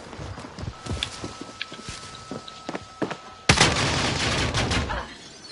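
Video game gunfire: scattered sharp shots and footstep-like taps, then a sudden loud sustained volley that fills the last two seconds before easing off. No one speaks.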